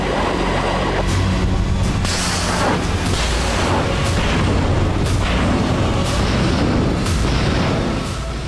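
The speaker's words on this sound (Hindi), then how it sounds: "ये रूसी सेना के युद्धाभ्यास की तस्वीरें हैं। जहाजों से मिसाइलें दागी जा रही हैं।" Missiles launched from warships during a Russian military exercise produce a loud, continuous roar with a series of heavy booms roughly once a second, dense and rumbling throughout.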